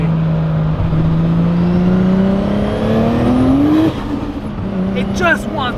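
A 600HP Nissan Skyline R34 GT-T pulls hard through second gear, its engine note climbing steadily in pitch and then dropping sharply, loud and close from inside the car, with people talking over it.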